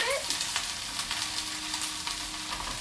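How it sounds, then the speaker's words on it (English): Green beans sizzle and crackle steadily in a hot pan, with light stirring clicks over a constant frying hiss. "So now I've got my green beans going. The green beans are, let's see. Can you hear them sizzling a little bit?"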